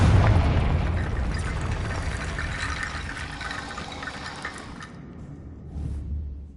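A Confringo fire-blast spell goes off in Hogwarts Legacy, a loud, dense burst of booming and crackling that rumbles on for several seconds before thinning out, with a fresh low swell near the end.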